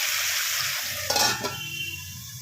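Charsi chicken fries in a pan with tomatoes added, giving a steady hiss of sizzling oil broken by a short burst of stirring and spattering, with no voices.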